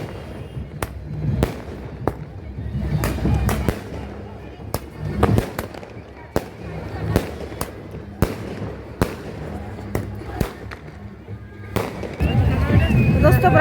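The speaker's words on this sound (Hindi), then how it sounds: "पटाखे फूटने लग गए यहाँ पे।" Firecrackers burst at a nighttime wedding procession (baraat), with sharp, loud cracks going off irregularly every second or so over crowd noise and talk, and denser rumbling toward the end.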